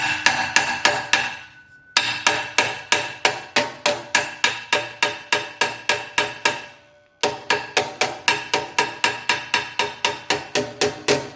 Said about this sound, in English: Basically trying to just hit on the edge of the steel flange.